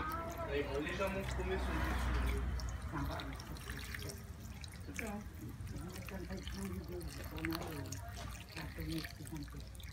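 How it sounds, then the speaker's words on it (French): Water being poured over coarsely cut vegetables in a Magimix Cook Expert to make a vegetable velouté, a close, splashing gush of running water that fades to trickles and drips, with a person talking over it. "Je vais rajouter de l'eau à hauteur."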